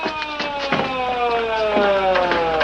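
An ambulance siren wails loudly in a 1950s police drama scene, its rising and falling tone sweeping steadily and continuously, with no talking over it.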